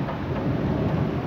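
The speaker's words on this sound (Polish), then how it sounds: "Niezła burza" Thunder from a powerful storm over Pruszków, Poland: a brief low rumble with rain hiss, steady and fairly loud, with no voices.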